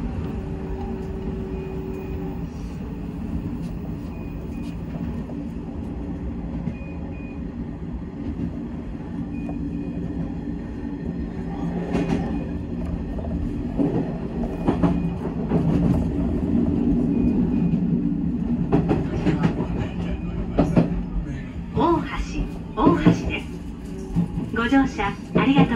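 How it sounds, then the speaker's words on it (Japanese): A Nishitetsu Tenjin Omuta Line limited express train bound for Omuta runs steadily with a low rumbling roar and rattling wheel noise that grows louder midway, while onboard announcements play over it. "この電車は大牟田行き特急です。"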